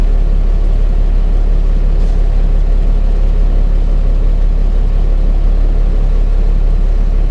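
A big rig truck cruising at about 60 miles an hour gives a loud, steady, low engine drone and road rumble that fills the cab without letup.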